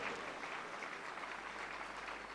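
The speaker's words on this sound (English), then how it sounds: "I want all of you to give a big round of applause for them also." Round of applause from a student parliament audience in Pune, a soft continuous patter of clapping heard faintly and evenly, with no speech over it.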